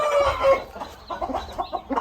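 A Thai fighting rooster, a Burmese-cross gamecock champion of six fights, crows and clucks close by in short bursts, the calls loud and uneven with brief pauses between them.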